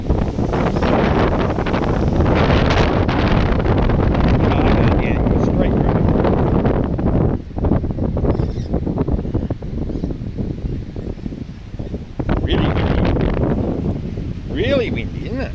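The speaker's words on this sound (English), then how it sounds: "Really windy, isn't it?" Strong gusty wind roaring outdoors, buffeting the microphone with a loud, continuous rumble that eases briefly midway, while people chat faintly beneath it and a dog plays fetch nearby.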